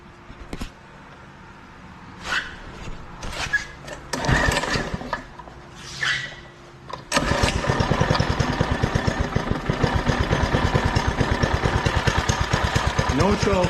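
A Doodle Bug DB30 mini bike's small engine, with a carburetor screw being adjusted, sputters into life after some talk and handling noises, then runs steadily with a loud, fast, even putter close by.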